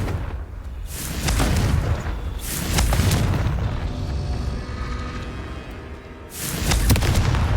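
Confringo fire spell explosions in the video game Hogwarts Legacy, several loud, heavy booming bursts a few seconds apart, each trailing into a fiery rumble over constant game ambience, with no speech.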